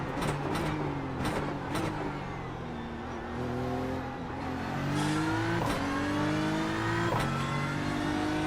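A GT3 race car in the iRacing sim revs and shifts through gears at Watkins Glen, its engine note rising and dropping repeatedly, loud and steady throughout with no speech.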